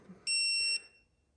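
A digital torque wrench gives a single clear, high-pitched electronic beep of about half a second, close by in a quiet garage during an LS1 engine build for a 1LE Camaro.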